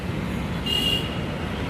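Steady roadway rumble of passing vehicles on a busy station road fills the whole stretch, with a brief high whine rising briefly above it midway.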